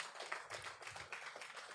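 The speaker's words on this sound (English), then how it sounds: "Can I get a round of applause again?" Audience at a built environment expo applauding after a presentation, a faint, distant patter of scattered hand claps in a large room, uneven and thin, with no talking over it.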